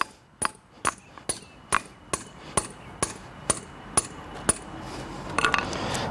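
Anchor bolts being hammered into holes during a stainless steel cable railing installation: a steady series of about a dozen sharp metallic hammer strikes at an even pace, close and distinct, with no talking.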